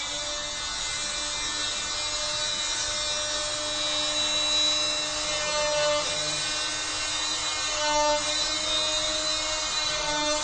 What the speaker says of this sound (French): ça fait très peur une scie à plâtre